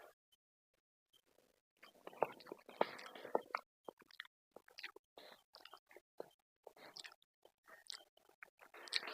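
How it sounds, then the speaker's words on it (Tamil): Soft, close chewing of a paruppu vadai, a lentil fritter soaked in sambar, with wet bites and mastication coming in quiet irregular bursts and short pauses, with no talking. "வெறும் வடையை மட்டும் டேஸ்ட் பண்ணி பார்ப்போம்."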